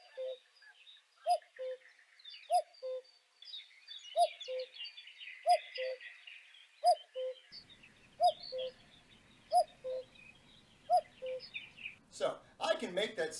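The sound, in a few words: recording of a cuckoo bird calling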